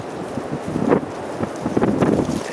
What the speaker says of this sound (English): We got a high wind warning for us here in Michigan.